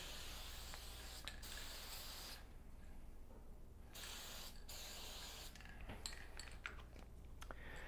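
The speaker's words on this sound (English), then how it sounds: "anytime you apply a release agent like this, anything like this that comes in an aerosol can" Aerosol mold release sprayed from a can while preparing a hand lifecast mold: steady close hissing bursts with short pauses between them and no talking.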